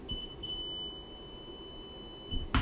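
A multimeter in continuity mode beeps while probing a pin on a CoCo 2 circuit board, producing a steady high electronic tone lasting about two seconds before a short clunk, with no talking.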